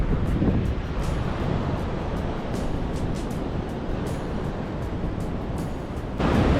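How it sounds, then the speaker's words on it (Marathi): Steady, loud rush of water overflowing a dam near its gates, a constant roaring wash with wind buffeting the microphone throughout. "पाणी कसं पडतंय ते दाखवतो तुम्हाला एकदम ओव्हरफ्लो झालं"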